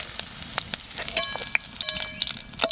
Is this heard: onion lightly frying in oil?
yes